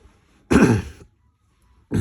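A single loud throat clearing with a rough cough, close up, followed by a pause and the start of another burst.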